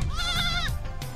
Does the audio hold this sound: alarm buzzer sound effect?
no